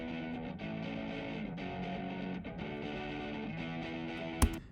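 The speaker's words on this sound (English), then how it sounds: "I have some guitar tracks right here. I'm putting this over our lead guitars." Soloed lead electric guitar tracks playing back in Pro Tools, sustained distorted notes droning steadily and heavy in the low end, with a brief sharp click near the end.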